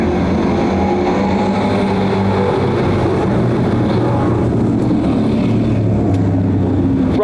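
Prostock race cars at Can-Am Speedway in Lafargeville, New York, a loud continuous engine roar of several cars together, droning steadily with shifting pitch as they run down the track.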